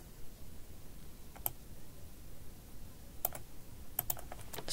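Keys clack on a computer keyboard while text is typed into a text box in an Excel spreadsheet, with a few sharp isolated taps and a short quicker burst near the end over quiet background hiss.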